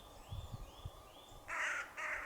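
A crow caws twice in quick succession near the end, loud and harsh, with quieter rustling and faint background before it, during spring wild camping outdoors.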